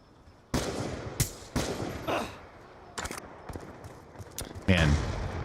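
Gunfire in a first-person shooter video game: sharp bursts of shots crack out at irregular intervals over busy background game noise, with a closing flurry of louder reports near the end.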